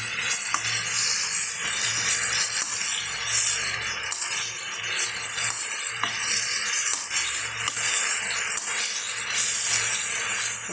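Sliced banana sautés in a hot pan, giving a steady, close hiss and sizzle with occasional light scrapes of a utensil running throughout.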